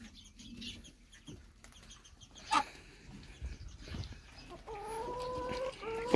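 Farm chickens, including Isa Brown hens, cluck and squawk nearby, with a sharp call and wing flapping partway through and a louder stretch of clucking near the end.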